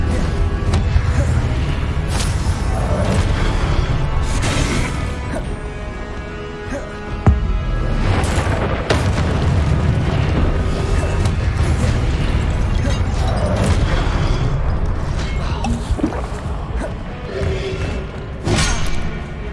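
Repeated booming, bursting Incendio fire-spell blasts from the Hogwarts Legacy video game, dense and loud throughout, layered over music and effects without pause.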